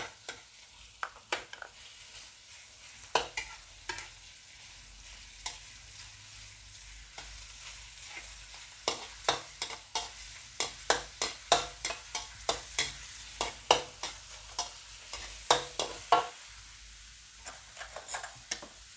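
Minced pork frying in oil in a pan for a stir-fried glass noodle dish, a utensil scraping and clicking against the pan in irregular strokes over a soft, steady sizzle.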